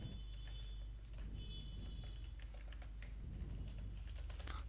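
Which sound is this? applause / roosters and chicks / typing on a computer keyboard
typing on a computer keyboard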